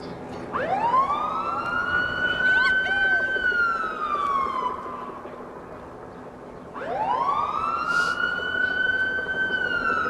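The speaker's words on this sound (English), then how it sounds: "We should hear a third siren, and then the countdown will begin." A wailing warning siren before the demolition of the Muehlebach Towers in Kansas City, Missouri, rising and falling twice in long sweeps, loud and echoing over a low background rumble.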